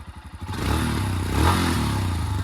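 A 2025 Royal Enfield Himalayan Scram 411 motorcycle running on its stock exhaust, its single-cylinder engine idling with a steady close rumble and a slight rise in revs.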